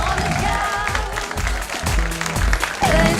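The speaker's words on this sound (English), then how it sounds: "Give us a round of applause." A studio audience applauds continuously for a talk show episode of The Couch, a steady loud wash of clapping with a voice speaking over it.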